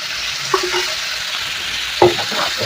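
Chopped chayote sautés in a hot pan with a loud, steady sizzle and two clear metal scrapes as a spatula stirs it, close up and with no speech.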